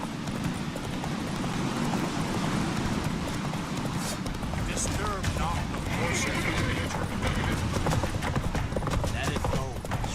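Roach the horse gallops in The Witcher 3 with fast, continuous hoofbeats under dense, loud game action, occasional neighs, and people talking throughout.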